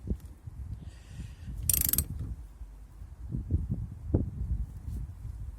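A wrench tightens the brake line union on a Toyota Avensis diesel fitted with a new brake caliper, giving close, sparse mechanical clicks and knocks with one brief bright metallic burst, no talking.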